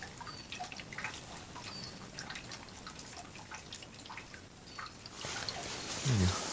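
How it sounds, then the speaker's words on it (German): Water trickles and drips as it drains out of a household water pipe at a house in the Italian mountains, irregular drops and splashes, with a louder gush near the end; a voice talks under it at times. "Ja, da scheint das Wasser auch gut abzulaufen."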